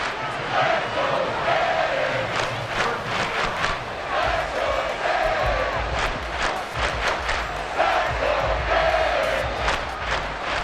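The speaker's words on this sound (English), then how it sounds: "Now this crowd is making an impact right now." A packed stadium crowd in the football game Madden NFL 24 roars continuously, loud and dense, with rising cheers and shouts swelling over a constant wash of noise.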